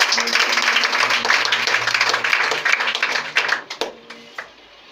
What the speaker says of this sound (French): Acclame-le puissamment ce matin